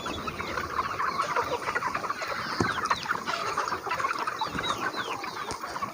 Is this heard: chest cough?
no